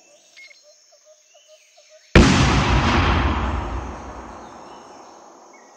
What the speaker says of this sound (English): the explosion in that recording is recorded a lot louder than everything else